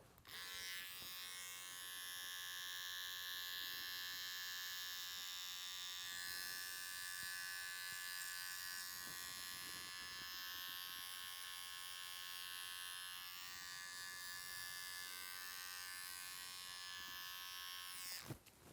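An electric hair trimmer in a barber class buzzes continuously at close range for the whole stretch, a steady high-pitched electric hum with slight variations in tone.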